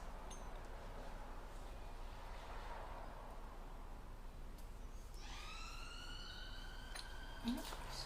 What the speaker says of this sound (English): It's the ambulance run here.